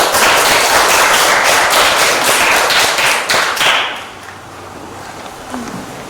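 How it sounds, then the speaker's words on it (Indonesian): Classroom applause as a student group comes forward to present, a dense burst of clapping from many hands that fades out after a few seconds into quiet room noise. "Kita beri aplaus yang meriah"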